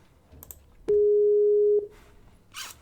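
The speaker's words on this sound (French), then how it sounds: "on lance l'appel de façon immédiate" A Skype call tone sounds once as a single steady electronic beep of about a second, clear and loud over faint room noise.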